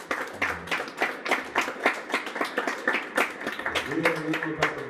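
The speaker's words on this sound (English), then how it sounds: "Let's give one more round of applause" An audience claps in a steady burst of applause at a small live music show, with voices talking over it throughout.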